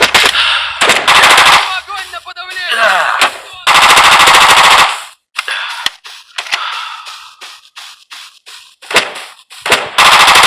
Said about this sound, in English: That's the Glock 18. Holds 23 rounds.